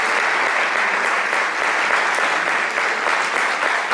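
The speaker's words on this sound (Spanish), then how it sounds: "Yo les pediría un fuerte aplauso, por favor, al señor Carlos Gómez de" Audience at a book presentation claps steadily, a dense and even wash of applause filling the room with no voices over it.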